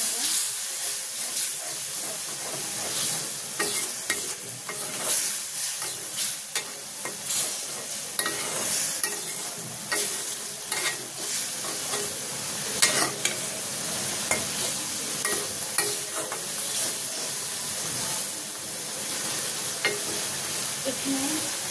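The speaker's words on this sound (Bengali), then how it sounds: "ভালো করে কষে নেব।" Food stirred and sautéed with salt in a frying pan, a continuous sizzle and hiss with scraping stirs recurring irregularly, close and fairly loud with no talking.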